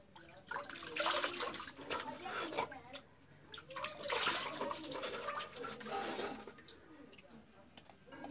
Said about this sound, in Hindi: हाथ जो है अच्छी तरह धो लें, तो अब जो है ना चेहरा वो धोना है।